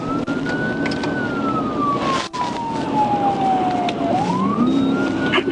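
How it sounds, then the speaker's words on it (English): A loud police siren wails during a police chase, rising and falling in long sweeps over the steady roar of a moving vehicle. "activated the siren, escalating the chase"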